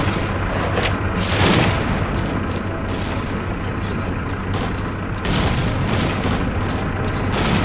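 A grenade explodes in the video game S.T.A.L.K.E.R. Clear Sky, with a loud booming blast near the start and a second heavy burst later, over constant game noise and voices.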